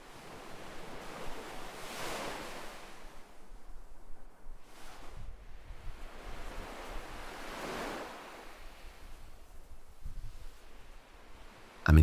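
Ocean waves wash onto a beach, each swell rising into a soft rush of surf and ebbing away at a slow, even pace, with light wind in the background.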